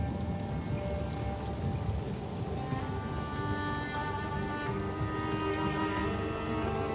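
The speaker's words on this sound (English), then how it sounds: "The raindrops slide into the sand, and so there is some water here." Rain falls on desert sand dunes in Algeria, a steady even hiss of drops with no talk, under a soft layer of sustained music.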